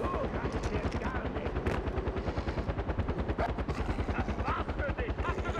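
Far Cry 4 gameplay with dense, rapid gunfire and heavy explosive blasts of mortar fire, a helicopter droning throughout; the battle noise is loud and continuous, with a voice talking over it.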